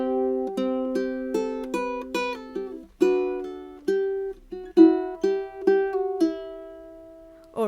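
Fingerstyle ukulele plays a melodic phrase from a song: a steady stream of bright plucked notes and short chord strums with varied rhythm, close and clean, ending on a held note with no talk over it.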